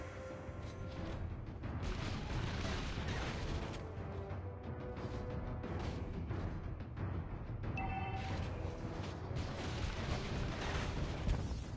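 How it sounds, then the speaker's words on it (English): Mobile Legends battle in which a turret is destroyed: dense, loud game-combat audio with booming impacts, blasts and crackling skill effects layered continuously over background music. "Your team destroyed a turret!"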